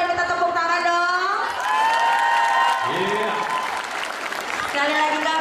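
A concert crowd applauds and cheers steadily throughout, a dense wash of clapping and shouts with a voice speaking over it at a community group event at a NOAH show in Hong Kong.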